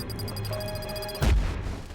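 A single sharp explosion bursts out in the video game Just Cause 3, a deep boom that breaks in after a steady background of game ambience and ticking tones, then rumbles away.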